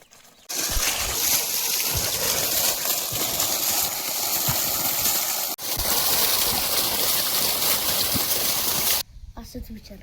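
Water gushes up and splashes loudly and continuously once a pipeline fills, a dense rushing roar that cuts out briefly midway, then resumes before dropping away to quieter sounds near the end.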